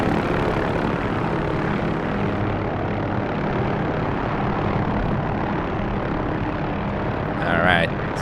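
A simulated OH-6 Loach helicopter coming in to land on a helipad in the DCS flight game, with a loud, steady rotor and turbine drone throughout, a voice faintly present, and a brief electronic chirp near the end.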